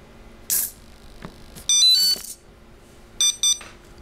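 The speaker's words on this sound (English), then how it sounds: "There are only two beeps." An ArduPilot Mega (APM) flight controller sounds electronic beeps in short bursts: a quick cluster, a pause, then two brief beeps, with soft clicks and faint background hum.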